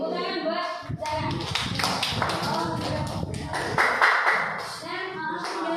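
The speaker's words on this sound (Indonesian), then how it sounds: "Mari kita lakukan tepuk tangan buat saya." A classroom group in Indonesia gets a round of applause, with hand clapping running steadily through the clip and voices talking over it.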